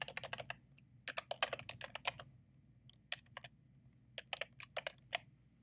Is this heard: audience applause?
no